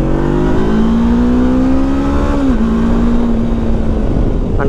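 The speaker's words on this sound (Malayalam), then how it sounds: "ആ ഒരു ട്വിൻ സിലിണ്ടറിൻ്റെ ആ സൗണ്ടും ആ ഒരു ഗ്രണ്ടും നല്ല ഫീലാണ് നമുക്ക് കിട്ടുന്നത് ഈ വണ്ടിയിൽ നിന്ന്" A Honda NX500 500 cc twin-cylinder motorcycle engine revs steadily and loudly up close, its pitch climbing smoothly, dipping briefly, then holding a sustained drone with no talk.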